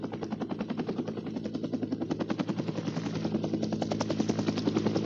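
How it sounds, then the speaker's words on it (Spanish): A helicopter flies over the Venezuelan jungle toward Cerro Autana. Its rotor beats in a fast, steady rhythm that grows slightly louder, with no other sound. "debían de volar 2 helicópteros"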